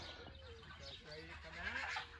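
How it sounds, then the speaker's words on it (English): Geese honking in a farm paddock, several short honks in quick succession close by, faint and mixed with a voice speaking. "They're really honking!"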